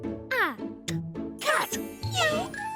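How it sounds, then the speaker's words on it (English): A cat meows several times in quick succession, clear and close, with rising and falling cries that overlap with a voice speaking. "Cat."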